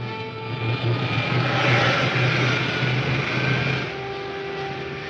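Jet engines on a craft fire up with a loud, steady roar that swells and then eases slightly toward the end.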